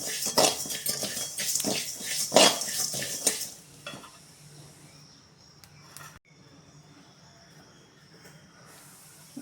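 Cumin seeds dry-roasting in a pan for rasam powder, with scraping and stirring of a metal spatula clattering against the pan for the first few seconds, then a quieter faint hiss with occasional light scrapes.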